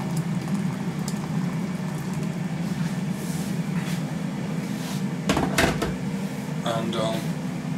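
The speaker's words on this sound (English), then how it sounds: "Just got the kettle on to boil now to put some water in there." An electric kettle heating water gives off a steady low rumbling hum throughout, with a few clicks and knocks near the middle and a person talking over it.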